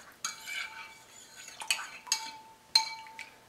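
Soapy water insect spray mixture stirred in a container, giving several sharp clinks and scrapes of a utensil against the sides, spaced irregularly, close and fairly quiet.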